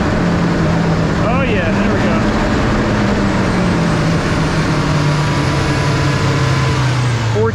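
A truck engine idles steadily after a battery-light charging repair, then its pitch rises gently as it is revved, a loud continuous drone close by with someone briefly speaking over it.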